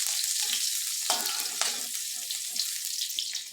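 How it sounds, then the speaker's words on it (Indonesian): Shallots sautéing in a pan over a wood fire, a bright continuous hiss with a few sharper spatters, close and steady with no talk. "Ini saya tumis dulu bawang merah, kemudian saya masukkan iris cabai."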